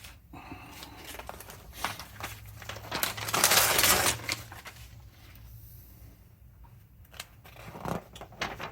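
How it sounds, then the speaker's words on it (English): A sharpened knife slicing through paper, giving a few dry rasping cuts with a louder swipe near the middle and another near the end, close and fairly quiet. "If I cut some paper"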